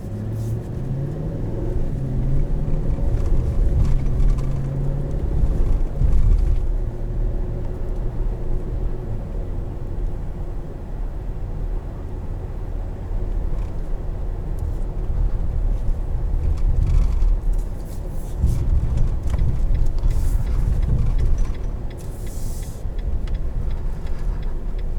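A 2021 Nissan Titan Pro-4X pickup truck engine rumbles steadily while the truck jolts and rattles over a bumpy road, loud and close, with no talking.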